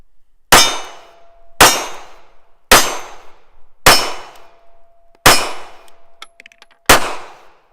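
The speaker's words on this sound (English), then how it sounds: "First shots, Ruger LCP II." Six sharp Ruger LCP II pistol shots at about 7 yards, fired at a slow, fairly even pace, each a loud crack that rings out and decays before the next, with no talk over them.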